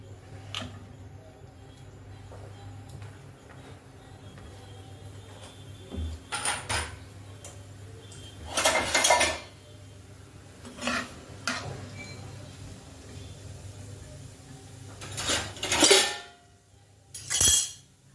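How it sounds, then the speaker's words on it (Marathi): Onion is sautéed in a little oil in a pan, mostly quiet with a faint low sizzle, punctuated by several loud bursts of spatula scraping and clattering against the pan. "आता हा कांदा यात परतून घेऊया."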